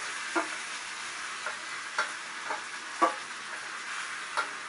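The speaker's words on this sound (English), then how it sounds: "And then add your noodles and vegetables to it." Noodles and vegetables being stirred in a hot pan while cooking an oriental goulash, with a steady low sizzle and a handful of soft, irregular scraping clicks from the utensil, fairly quiet and without any talk.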